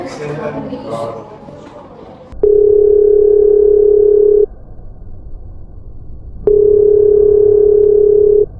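Telephone dial tone heard while calling an internet provider's call center, two loud steady tone bursts of about two seconds each with a pause between, following a stretch of talk at the start.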